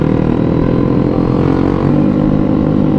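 A Honda PCX scooter fitted with a WRX aftermarket exhaust drones loudly and steadily at close range on a Sunday morning group ride in Bogor, with no talk heard over the engine.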